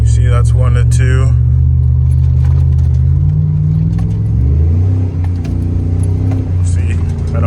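Car with a rebuilt 4L60E transmission revving up and shifting from first to second, engine drone climbing then dropping at the shift and building again, close and loud, with someone talking over it at times.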